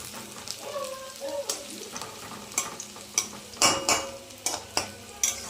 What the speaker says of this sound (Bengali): এখানে পেঁয়াজ কড়াইতে দিয়ে দিয়েছি, লাল লাল করে ভেজে নেব।